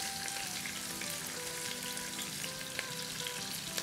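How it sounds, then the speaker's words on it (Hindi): Chopped garlic and onion sautéing in hot oil for a Singaporean noodle dish, a steady close hiss and crackle of frying with no voices. "बस हल्का सा 30 सेकंड के आसपास सॉटे करना है"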